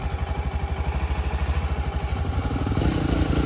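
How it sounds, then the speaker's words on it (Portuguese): A Honda XRE motorcycle idles close by, its engine giving a steady, even low thumping pulse that runs throughout and swells slightly louder near the end. "Linda, linda, linda essa moto."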